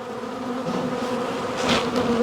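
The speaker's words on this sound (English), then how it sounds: "I'm going to split this hive right now" Honeybees from an opened hive being split hum in a dense, steady, close drone that stays loud and unbroken throughout, with no voices.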